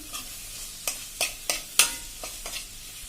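Onions sauté in a pan for a Surat-style cheese paneer ghotala, a steady close sizzle broken by several sharp clinks and scrapes of stirring, with no talking.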